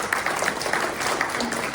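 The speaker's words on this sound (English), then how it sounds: "we're gonna go ahead and give the panelists an applause and tell them thank you" An audience applauds panelists at the close of a talk event on aging, steady dense clapping from many hands filling the room.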